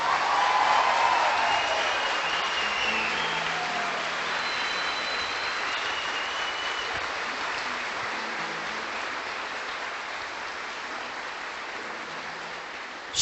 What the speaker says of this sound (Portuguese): aplauda o teu pai